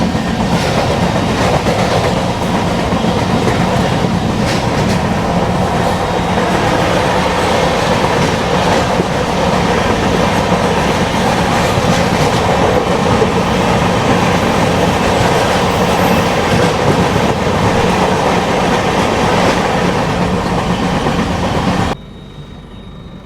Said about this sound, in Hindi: अभी सामने से ये आ रही है बनारस से जम्मू तभी जाने वाली बेगमपुरा एक्सप्रेस